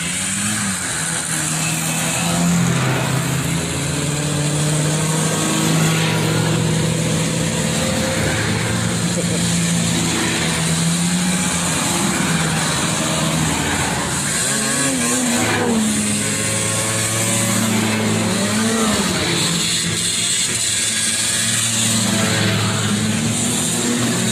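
A vintage snowmobile rides past as part of a line of old sleds, its steady engine drone loud and continuous throughout with shifting pitch as it passes, under outdoor crowd noise.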